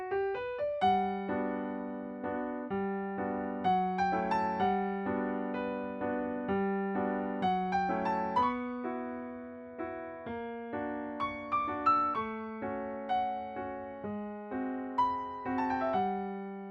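Solo piano plays the gentle 8-bar intro of a song, chords and melody with each note ringing and fading, at a moderate, even pace.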